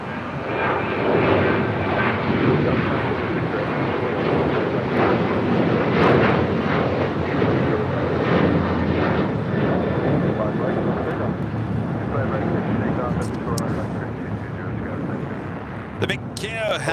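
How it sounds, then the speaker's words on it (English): An Alaska Airlines Boeing 737-900ER jet taking off from the south side at LAX: a loud, sustained jet engine roar that slowly fades over about seventeen seconds. Wind buffets the microphone and people talk over the engine noise. "Next takeoff here on the south side is Alaska Airlines flight 1374 heading to Loretto."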